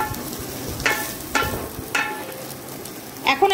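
Onion frying with ginger and garlic in a pan for a Chinese vegetable and chicken dish: a soft steady sizzle broken by several sharp scraping stirs at irregular intervals, close and moderately loud, with no talking.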